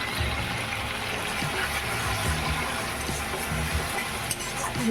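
Bhola fish frying lightly in a pan with turmeric and a little water, a steady close sizzle and bubbling hiss with faint stirring, no talking.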